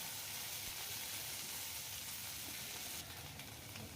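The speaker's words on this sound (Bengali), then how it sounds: "এটা একটু ভাজা ভাজা করতে হবে এগুলো আমি কড়াইতে" Tender amaranth stems fry in a wok, a quiet, steady sizzle and hiss that stays faint and continuous for a few seconds.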